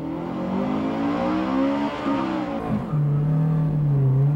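A Honda Civic Type R EK9 and a Nissan Pulsar VZ-R N1 Version II launch together at Ebisu, their engines climbing in pitch through the gears with a shift partway through, loud and close.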